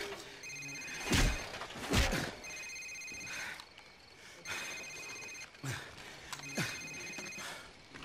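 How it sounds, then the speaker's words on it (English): A cell phone rings in Call of Duty 4: Modern Warfare, sounding as three repeated bursts of bright electronic tones spaced a couple of seconds apart, with dull thumps and low game ambience between them. "Sir, it's his cell phone."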